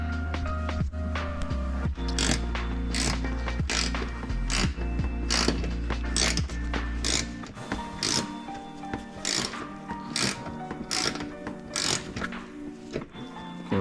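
Ratchet wrench driving Torx bits on the bumper screws of a Porsche Cayman S with an aftermarket GT4 bumper, close up: a steady run of rapid, crisp clicking strokes over a low rumble that drops away midway, no talk.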